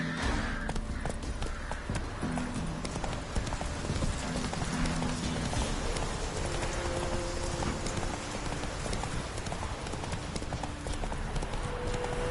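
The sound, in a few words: horse galloping in the video game The Witcher 3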